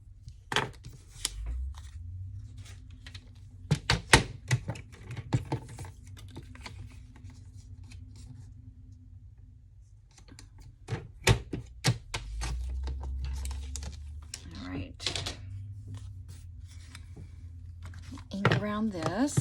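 Scissors cutting through newsprint paper for a handmade postcard, a series of sharp crisp snips and rustles in short bursts with quiet pauses between, close by in a quiet room.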